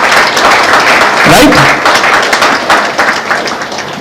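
Audience applause at a college physics association event, a steady broad wash of clapping filling the whole stretch, with someone talking over it.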